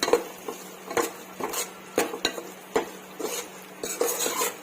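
A spoon scrapes and knocks around a pot as crushed kasuri methi is mixed into mushroom biryani masala, giving irregular close metallic clinks and scrapes that come roughly every half second with no speech.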